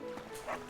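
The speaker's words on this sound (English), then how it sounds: "Stop barking! Stop it!" A dog in the Fire Emblem: Three Houses video game gives a short yipping bark over the game's background music, brief and close.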